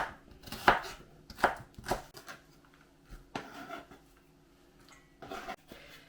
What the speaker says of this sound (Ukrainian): А ми тим часом нарізаємо цибулю четверть кільцями.